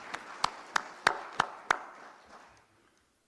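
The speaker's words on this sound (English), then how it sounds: "please give her another round of applause" Applause at a state meeting at State House Entebbe with Presidents Samia Suluhu Hassan and Yoweri Museveni, heard as a handful of sharp, spaced claps that fade away into quiet.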